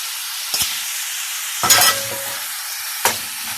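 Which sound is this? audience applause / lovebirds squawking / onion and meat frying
onion and meat frying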